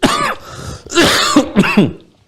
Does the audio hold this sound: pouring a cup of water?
no